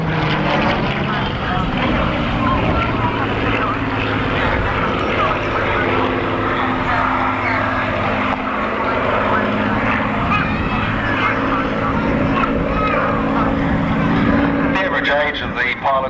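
Propeller warbird completing a big loop at a Matamata airfield airshow, a loud sustained engine drone with shifting tones throughout, under a commentator's voice.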